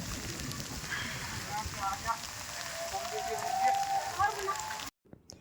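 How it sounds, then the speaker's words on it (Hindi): Heavy snowfall on a mountain near a hilltop temple patters steadily like rain on surfaces, a dense continuous hiss with faint voices beneath, ending abruptly in silence. "यहाँ पर अचानक से ही स्नोफॉल होने लग गई थी और बहुत ही ज़्यादा तेज़ होने लग गई थी। ऐसे लग रहा था जैसे कोई बारिश आ रही होगी।"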